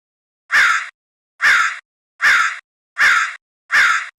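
A village boy mimics a crow's caw with his voice, giving five evenly spaced, loud, harsh calls about a second apart, with short silences between them and no other sound.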